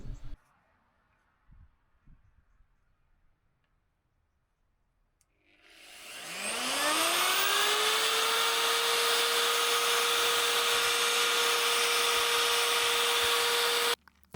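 Electric router milling a wooden piece for a kitchen cabinet installation: a loud, steady high whine spins up after about six seconds of quiet and runs continuously before cutting off at the end.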